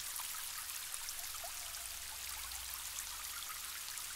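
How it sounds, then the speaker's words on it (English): Water from a shower runs steadily with a soft, even hiss and light patter, faint and continuous with no voices. "when you press it, the water begins to flow."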